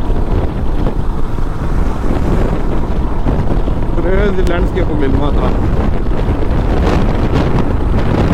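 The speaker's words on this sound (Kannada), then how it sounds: "ಏನ್ ಗುರು ಗಾಳಿ ತೊಳ್ದೈದ್ ಗಾಡಿ ನಂಗೆ" Strong wind roars against a Royal Enfield motorcycle while riding on flat open terrain near windmills, a constant loud buffeting rush with someone talking briefly over it.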